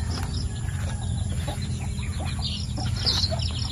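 Hens cluck close by on a poultry farm while higher peeping chirps from chicks break through now and then, set over a steady low background hum.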